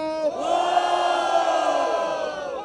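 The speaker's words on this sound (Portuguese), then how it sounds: "Barulho, quem gostou das rimas de Basque" A crowd at a Brazilian street rap battle roars and cheers together in one sustained, loud swell of voices that fades slightly toward the end.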